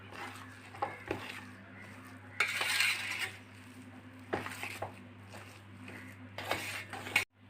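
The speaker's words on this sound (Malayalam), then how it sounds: "ഇതെല്ലാം കൂടെ നന്നായിട്ടൊന്ന് മിക്സ് ചെയ്തെടുക്കാം." Dough mixed with ghee in a bowl for ilayada, giving soft squishing and light scraping of a utensil against the bowl, close and fairly quiet over a low steady hum.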